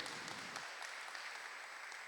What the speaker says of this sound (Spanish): Dale un aplauso al Señor, dale toda la gloria a Él.